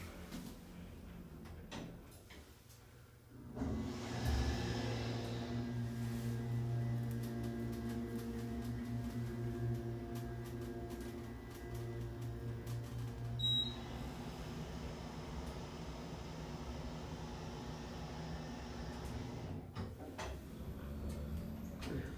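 An Otis HydroFit machine-room-less elevator in a primary care building rising one floor, heard as a low steady hum and rumble from inside the car, with a faint tick near the end before the drone fades.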